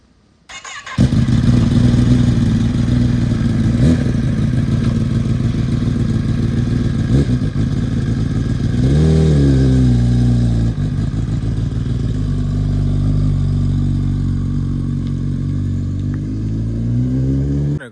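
A Kawasaki ZX10R motorcycle engine starts up close by and runs loud and steady, with a brief rev climbing and falling around the middle before settling back to a rough idle; no one speaks.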